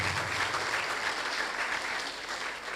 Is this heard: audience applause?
yes